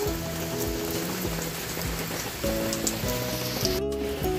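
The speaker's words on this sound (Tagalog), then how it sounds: "Umuulan sa Texas." Rain falls steadily outdoors in Texas among garden plants in a close, even hiss of drops, while a voice talks over it throughout.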